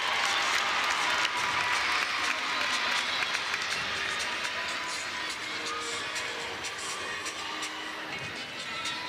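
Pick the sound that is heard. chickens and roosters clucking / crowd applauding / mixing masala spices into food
crowd applauding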